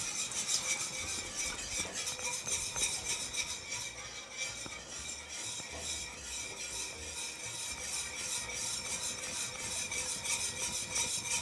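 Cream being stirred into a papaya gratin mixture, with a steady close rubbing and scraping of a utensil working continuously through the thick mixture, no voices.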